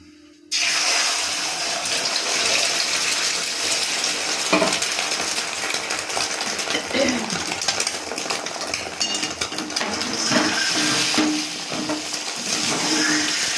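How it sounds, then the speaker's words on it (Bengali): Beaten egg for a large omelette hisses and crackles in a hot wok (kadai) at close range, a loud, steady sizzle starting abruptly after a short quiet moment and continuing with scattered spatters and stirring clinks. "তো এবার এটা আমি কড়ার মধ্যে অল্প অল্প করে দিয়ে ভেজে নেব।"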